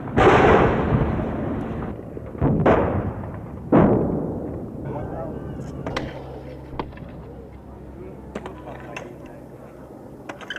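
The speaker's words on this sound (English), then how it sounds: "Trapped inside Kontum, the civilian refugees never escape the sound of battle." Battle sounds near the besieged town of Kontum during wartime: loud close blasts of gunfire and artillery at the start, then scattered sharper distant shots and thuds over a continuous rumble.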